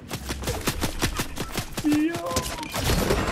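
Rapid bursts of gunfire in a Fortnite match on the original map, a quick string of sharp shots at a steady rhythm, loud and close, with voices talking over the shooting.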